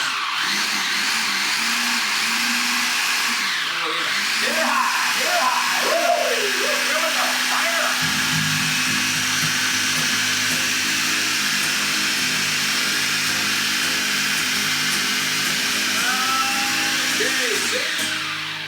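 A blender pulses apple pie filling with apple pieces in it, a loud steady whirring motor drone that holds close and continuous, shifting in pitch as the blades bite, with no talk over it.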